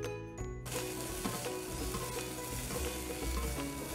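Frozen rice stir-fried in a hot pan sizzles loudly and steadily, with a metallic clink at the start and spatula scrapes running through the crackle.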